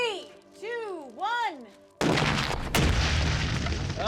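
C4 explosive detonated inside a microwave: after a few rising electronic warbles, a sudden loud boom erupts and rolls into a dense, lingering roar of debris and rumble lasting about two seconds.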